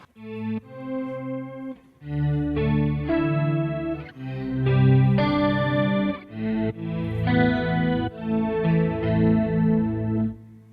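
An electric guitar played through a Kemper Profiler and a POG octave pedal, with auto swell and micro pitch engaged, rings out in a sequence of swelling, shimmering chords with a thick chorus-like doubling, each note fading in smoothly.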